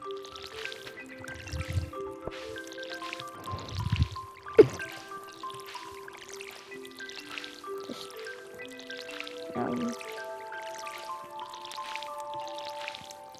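Watering crops with a watering can in the Stardew Valley video game on a winter farm day: soft dripping, trickling splashes repeat over light game music, with a few louder thumps along the way.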